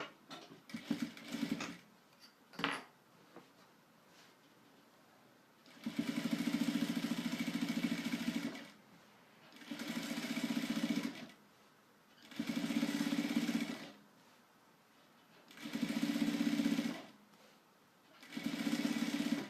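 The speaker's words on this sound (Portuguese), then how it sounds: "E aí então eu vou passar uma costurinha aqui nessa emenda que eu fiz." Sewing machine stitching a seam on a crib sheet, running in five steady humming bursts of two to three seconds each, separated by short pauses, with light handling clicks at the start.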